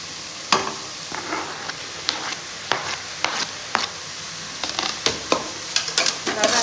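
Onions and tomatoes fry in a pan while a spatula stirs and scrapes, making repeated sharp clinks over a constant sizzle for a spinach sambar base.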